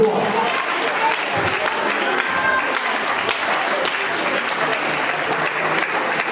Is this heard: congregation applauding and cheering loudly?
yes